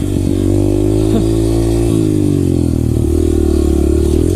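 A dirt bike engine revs loud and close while riding off-road in Freetown State Forest, a continuous mid-pitched drone with throttle shifts and some rattling clatter.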